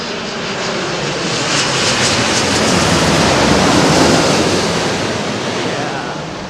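Oman Air airliner at London Heathrow, a loud, dense jet engine roar that swells toward the middle and eases off, heard close with no talk.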